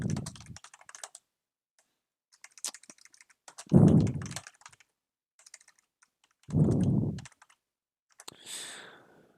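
Keys clacking on a computer keyboard in short separate bursts during an online game match, fairly close, with quiet gaps between bursts and no talk.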